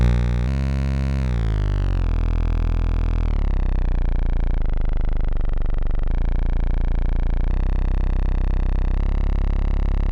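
A thick, distorted synth bass drone, made by feeding back into a filter, sustains throughout, its gritty tone shifting in steps as the filter and pitch change, loud and alone.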